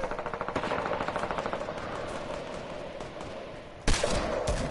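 Rapid automatic gunfire in a shooter video game, a fast rattling burst of evenly spaced shots at the start, trailing into a denser sustained clatter, then a sharp louder blast near the end.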